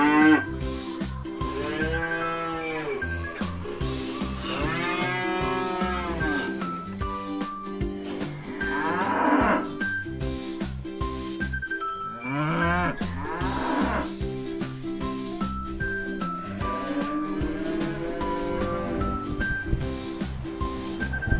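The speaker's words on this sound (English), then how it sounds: "Cow" Cow mooing in a children's animal-names lesson, with several long drawn-out moos spread across the clip over steady background music, fairly loud and close.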